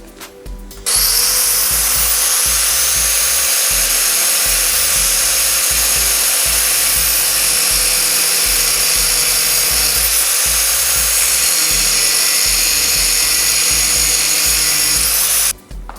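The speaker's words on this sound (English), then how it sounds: "So I'm getting a grinder." A loud, continuous angle grinder whine cutting off a bent, seized metal cotter pin on a vintage bike for about fifteen seconds, close up, with a high-pitched screech over rumbling, then stopping abruptly.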